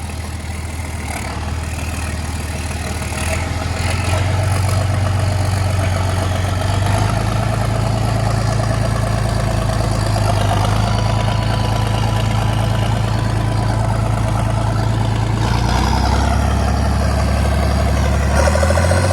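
A John Deere 4020 tractor with a 404 diesel making about 120 horsepower runs steadily with a turbo spool, its loud, continuous low engine drone rising slightly in pitch partway through and holding alone without talk.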